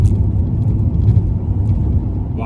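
An Alfa Romeo 156 2.5 V6 driving over a badly broken road, a steady low rumble of engine and tyres with faint thuds from the rough surface, close and continuous.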